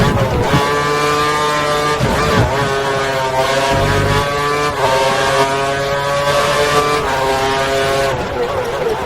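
A racing car engine in a racing video game at the Sepang circuit screams continuously at high revs, its pitch climbing and dipping with gear changes and throttle lifts, loud and close.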